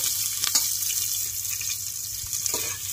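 Onion frying in a pan for village-style mutton curry, a steady bright hiss of sizzling oil with a few small clinks, close and fairly loud without any talk.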